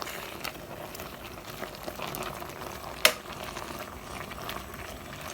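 Coconut paste cooking in a pot and being stirred, a continuous soft bubbling simmer with faint scraping, one sharp clink partway through, no talk.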